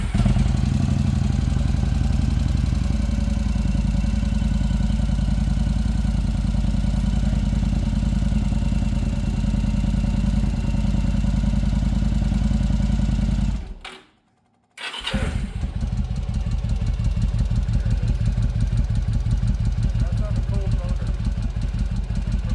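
A cold 1100 cruiser motorcycle engine idles steadily and loudly with a low throbbing rumble, cutting out briefly before catching again and resuming its even idle; no talk is heard.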